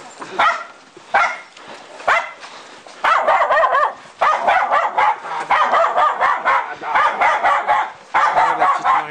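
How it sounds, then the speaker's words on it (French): A small dog barks repeatedly in sharp, high yipping bursts, loud and close, with short gaps between volleys and brief whimpering tones, and no talk over it. "Le petit chien."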